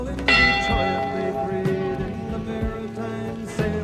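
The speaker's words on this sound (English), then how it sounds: "Church bell chimes to the ring 29." A church bell tolls at a memorial for the crew of the ore freighter Edmund Fitzgerald, with a few resonant strikes spaced apart and long ringing overtones decaying between them, clear and unaccompanied by speech.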